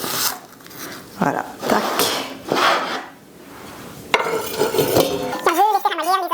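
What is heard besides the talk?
chopped onion added to hot oil in pan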